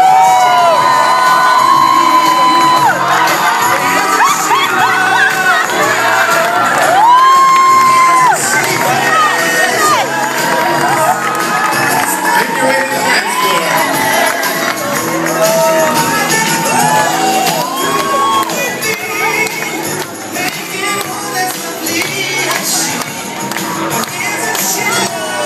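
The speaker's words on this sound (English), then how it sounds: "A lot of noise for Lloyd's grandma, Magdalena DeGuzman." Wedding reception guests cheer, shout and whoop loudly as a crowd throughout, a sustained roar of voices with overlapping yells and children's shrieks.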